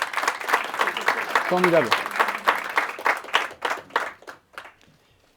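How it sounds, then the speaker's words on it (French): Applause with clapping spreading through a crowd, loud at first and fading out, with a voice speaking briefly over it. "On l'applaudit encore une fois."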